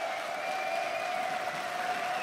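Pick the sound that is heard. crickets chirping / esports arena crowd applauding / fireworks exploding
esports arena crowd applauding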